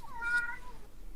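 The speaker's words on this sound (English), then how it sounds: "sorry, that's my cat." A single pet cat meows once indoors, a short rising-and-falling cry that is fairly close but soft, followed by quiet room tone.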